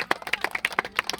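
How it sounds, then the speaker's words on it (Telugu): Scattered clapping from an audience at a children's singing performance, brisk and uneven hand claps in a short burst, fairly close with a faint voice murmuring underneath. "క్లాప్స్ కొట్టండి అమ్మ అందరూ"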